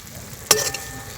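Semolina pitha stirred in jaggery syrup in a hot wok: a single short hiss-and-scrape burst rises briefly from quiet background hiss, then fades.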